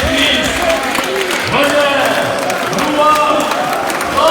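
A church congregation cheers and applauds in acclaim of Jesus Christ, a steady loud crowd roar with clapping, mixed under a voice speaking over it.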